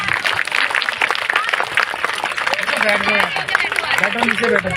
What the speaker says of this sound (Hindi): मेरे बच्चों के लिए बहुत बहुत तेज तालियां।